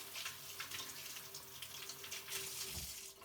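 A water tap runs steadily into a sink while coffee equipment is rinsed in a coffee house, a continuous splashing hiss with a brief deeper gurgle near the end.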